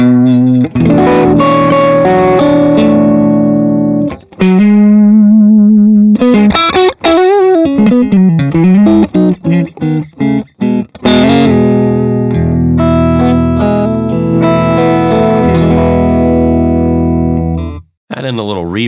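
An electric guitar on a single-coil pickup, volume knob near 6, plays through a Fractal amp modeler: sustained distorted chords, then quick choppy stabs and bends, then ringing held chords, loud and alone.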